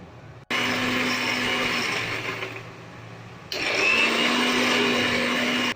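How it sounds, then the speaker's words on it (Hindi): A blender pureeing spice paste for malai paneer whirs loudly in two bursts, cutting in abruptly, dropping in pitch as it bogs down, then stopping briefly and starting up again. "मैंने इसे एक ब्लेंडर जार में ट्रांसफ़र कर लिया है। तो अब मैं इसकी प्यूरी बना लूँगी।"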